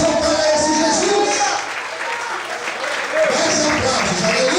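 A church congregation claps in sustained, dense applause, loud and continuous, dipping slightly midway before swelling again, with a voice calling out over the clapping.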